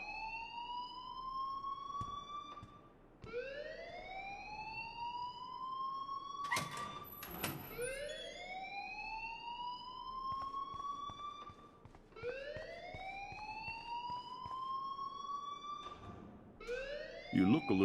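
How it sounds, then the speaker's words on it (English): An alarm blares in the video game Life is Strange: repeated rising whooping siren sweeps, loud and regular, with door-like thumps and bursts of voices talking over it. "please turn off that alarm since that's your job."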